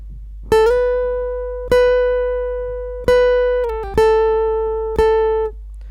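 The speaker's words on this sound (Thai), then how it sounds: "เป็นเสียงกีตาร์ไฟฟ้านะครับจะเล่น แบบนี้นะครับ" Clean electric guitar notes ring out one at a time, five plucked tones with slides between them, each sustaining and slowly fading.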